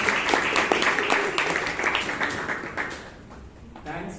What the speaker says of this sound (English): So let's give ourselves a huge round of applause for the job well